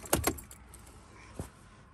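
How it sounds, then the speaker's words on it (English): Keys jangling in the ignition of a 2012 Mercedes Sprinter as it is switched off, two quick close metallic rattles followed by a single softer click, in a quiet cab. "Switch off ignition, which we will do."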